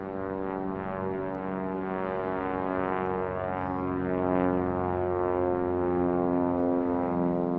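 Airliner departing Raleigh-Durham International Airport, a steady, loud engine roar with strong low tonal harmonics that swells slightly as it climbs, heard alone without talk.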